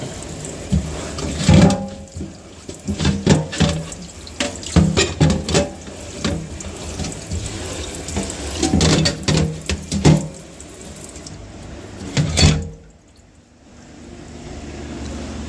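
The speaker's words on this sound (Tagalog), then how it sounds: "Hugasan mo natin to. Ang ating sangkala." Tap water runs and splashes onto a chopping board being washed in a kitchen sink, a loud, uneven stream with bursts of scrubbing and clatter that cuts off near the end, with no talk.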